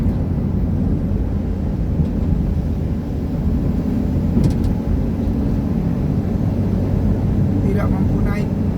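A loaded truck labours up a steep hill near Putussibau, Kapuas Hulu, West Kalimantan, its engine a continuous heavy low rumble heard from nearby, steady and strained throughout.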